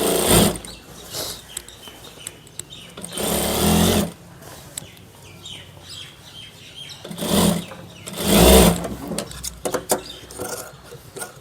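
A tailor's sewing machine stitches the back pocket onto a pair of trousers, running in two loud bursts separated by quieter handling and rustling of cloth.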